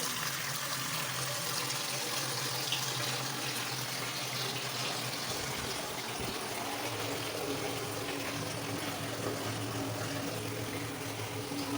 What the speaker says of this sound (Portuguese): Torneira de plástico, funcionando normalmente.